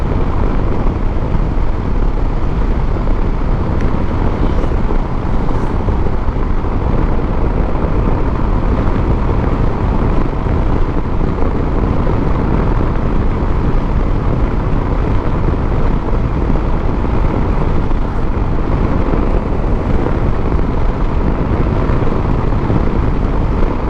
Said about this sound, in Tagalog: Medyo malakas lang yung buga ng hangin